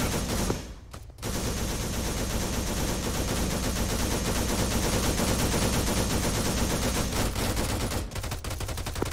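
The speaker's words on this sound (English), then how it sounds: "Being shots from the outside." Gunfire in Arma 3 sounds from outside a building as dense, sustained automatic bursts, loud and continuous, broken by a brief pause near the start and a dip near the end.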